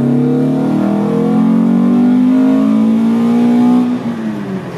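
A modified 1983 VW Rabbit GTI engine, estimated at 250 hp near 7500-8000 rpm, revs hard in a loud, close acceleration burst, its pitch climbing steadily for four seconds before easing off.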